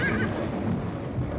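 A horse neighs and whinnies in a short, steady burst with faint hoof clip-clop beneath, fairly close and unaccompanied by talk.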